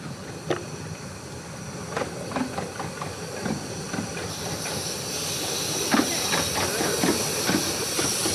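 A double-headed steam train at the Ravenglass & Eskdale Railway gala, River Mite leading River Ert, hisses steadily with sharp chuffs and clanks. A constant steam roar builds toward the end.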